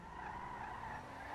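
Car doing a standing launch in a video game: a sustained tire skid squeal over a steady engine drone, continuous and moderately loud, with no speech.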